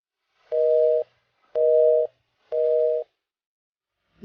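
A phone line beeps a busy-style tone for a switched-off number: three evenly spaced, steady mid-pitched tones, each about half a second with equal gaps, clear and loud in otherwise silent surroundings.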